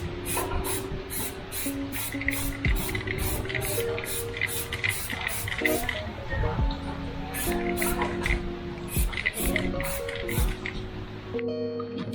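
Spray gun coating a car undercarriage during an AE86 restoration, with a steady hissing spray broken by rhythmic short bursts and pauses, close and fairly loud over a constant tonal hum, with no talk.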